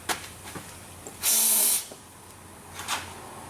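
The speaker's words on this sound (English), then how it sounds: "So I'm going to try and blow through that." Air is blown through a Hyundai MAF sensor in one short, loud breathy hiss lasting about half a second, close by, with softer rustling and faint clicks before and after.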